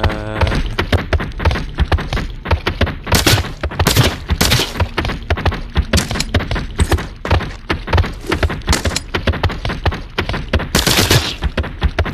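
Rapid bursts of gunfire in the video game Saints & Sinners 2, loud close shots with thuds and impacts fired in quick irregular volleys.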